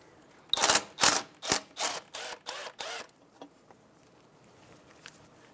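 A socket ratchet loosens the ABS sensor bolt on a 2007-2011 Toyota Camry, making six quick, loud, evenly spaced close ratchet bursts that then give way to faint quiet handling.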